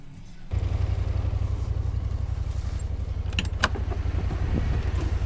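A car pulls up and idles close by on a farm, its engine rumbling steadily and loudly after it starts, with a brief click and rattle partway through.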